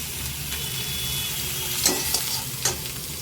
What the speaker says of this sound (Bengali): আদাটা একটু ভেজে নিচ্ছি